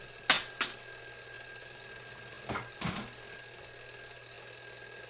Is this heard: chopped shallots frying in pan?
no